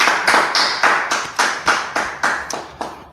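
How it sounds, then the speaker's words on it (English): A group claps in a slow, even beat, about ten sharp claps spaced roughly a third of a second apart, close and fairly loud, with no talking. "Hey, clap it up."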